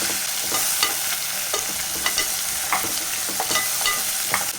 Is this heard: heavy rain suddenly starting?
no